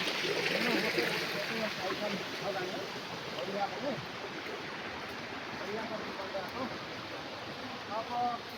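Water rushes steadily at a panchakki, a water-powered mill, running full after the second rain, a continuous broadband flow under intermittent talk.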